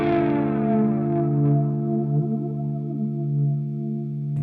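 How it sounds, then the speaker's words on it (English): A slow flanger effect through a ToneX One pedal colours a sustained electric guitar chord, its comb-filtered sweep rising and falling steadily. The ringing tone stays loud and even throughout, with no voices. "And the flanger does not sound bad at all."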